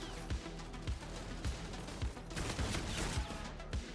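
Steady gunfire in a Call of Duty match from a slow-firing gun, with regular heavy shots about every half second over a dense game soundscape.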